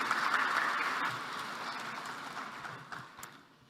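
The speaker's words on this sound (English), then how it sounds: "let's give him another round of applause" Audience applause at a development-finance event as World Bank President Ajay Banga comes to the stage, a dense wash of clapping that starts strong and slowly thins out, with a few scattered claps near the end.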